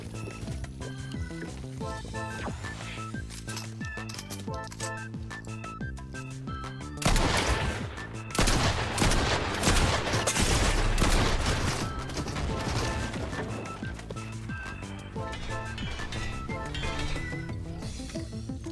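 Rapid assault rifle bursts from Fortnite crackle continuously over a dense game soundtrack and effects, with heavier volleys in the middle stretch.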